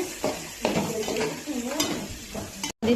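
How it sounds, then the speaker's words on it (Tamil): A spatula stirs shredded fried chicken with potatoes in a sizzling pan while noodles are being cooked, giving repeated scraping strokes over a steady fry hiss, close and moderately loud. "சிக்கன் உதிர்த்து வச்சு நல்லா கிண்டிட்டு"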